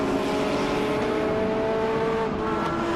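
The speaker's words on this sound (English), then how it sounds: "Paget Racing's Finale Motorsport Audi R8. Back straight." Audi R8 race car at full throttle on the back straight of a circuit during a regional racing event, a loud sustained engine drone with steady rising pitch, dominating the sound with no talk over it.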